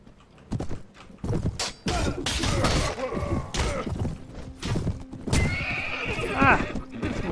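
A horse whinnies loudly among galloping hooves, thuds and clashing battle noise in the game Mount & Blade (A Clash of Kings mod), with game sound effects layered throughout.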